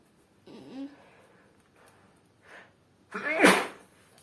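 A few brief vocal sounds, then one sharp, loud sneeze near the end, close to the listener in a quiet room.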